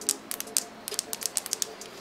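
A Hammerhead Karoo GPS cycling computer being handled, giving a quick run of sharp, light plastic clicks, about a dozen close-up taps in two seconds.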